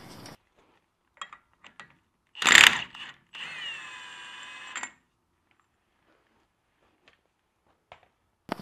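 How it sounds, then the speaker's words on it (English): A Milwaukee Fuel impact wrench with a 36 mm socket gives a short loud burst, then a steadier whine for about a second and a half, on a Jeep Wrangler wheel hub nut, amid scattered clicks and silence. "Now that nut is a 36 mil socket, and I'm going to use the Milwaukee fuel to bust this thing free."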